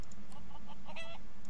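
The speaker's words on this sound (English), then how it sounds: "The hen gives you a panicked nod." A hen clucking in the fantasy role-playing video game Divinity: Original Sin 2, a brief run of nervous clucks over a constant low ambient hum.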